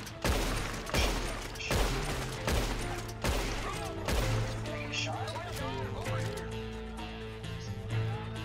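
Gunfire in the Red Dead Online video game arrives as a rapid volley of sharp, loud shots in the opening seconds, then thins to scattered pops under voices and background game noise.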